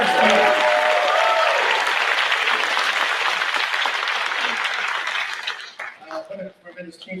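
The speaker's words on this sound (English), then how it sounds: "let's give Arturo a big round of applause" An audience at a business scaling program event breaks into loud, sustained applause that gradually thins out, with a voice briefly heard over the clapping at the start and talk resuming as it fades.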